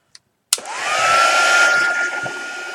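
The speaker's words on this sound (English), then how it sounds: "Let's get the heat gun for this yellow." A heat gun switches on with a sharp click, then blows a loud steady whine with a rising tone while it dries yellow paint on a canvas board.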